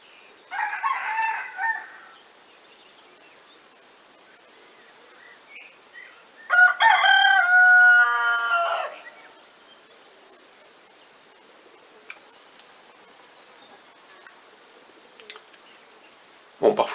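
Roosters crow twice with long gaps of quiet between, one call distant and one louder, strained, hoarse crow nearby, then a brief sound at the very end.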